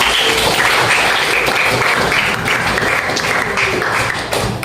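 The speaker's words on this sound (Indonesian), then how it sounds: "kasih tepuk tangan dulu" Classroom audience applauding during a differentiated-learning lesson, a steady dense patter of many hands clapping close by for several seconds, fairly loud, with faint background chatter.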